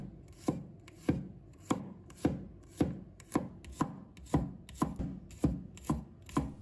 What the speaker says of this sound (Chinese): 准备1把大蒜，把它切成片。